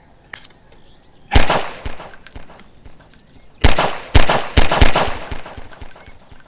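Loud bursts of gunfire in the video game Garry's Mod crack out in separate volleys, some rapid and overlapping, with quieter gaps in between.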